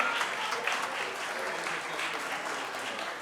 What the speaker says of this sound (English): A big round of applause for grade 4